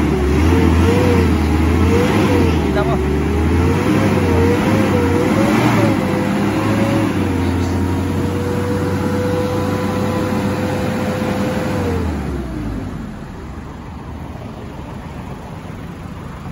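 A Mazda Bongo FB engine revs up and down in repeated rising and falling swells, then holds a steady pitch before dropping back to a low idle, loud and close with no talk over it.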